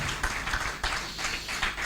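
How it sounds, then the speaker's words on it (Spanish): A church congregation breaks into applause during a sermon, a dense, steady wash of many hands clapping together that holds at an even level throughout. "Dale el aplauso"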